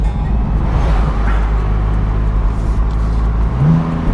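A 2020 BMW M4 Convertible accelerating hard on an open road, its engine a loud, steady low roar heard from inside the cabin, rising in pitch near the end.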